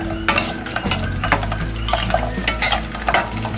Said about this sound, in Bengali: আমি এখন রসুনগুলোকে দিয়ে দিচ্ছি